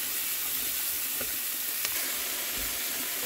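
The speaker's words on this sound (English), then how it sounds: "I'm gonna just stir that in, cook it down, soften up the onion" Garlic and onion sizzle and fry steadily in a pan, a bright continuous crackling hiss with a few soft scrapes as the pan is stirred, heard close and without talk.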